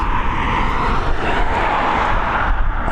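An airliner climbing away after takeoff from Dublin Airport gives a constant, fairly loud rumbling engine drone that holds steady throughout the short stretch.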